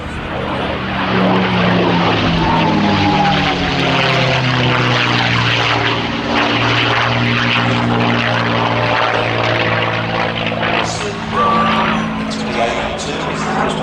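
A Supermarine Spitfire or North American P-51 Mustang propeller warplane flies at the Midlands Air Festival, its piston engine a loud, sustained drone with a slowly changing pitch as it passes, under a commentator's voice.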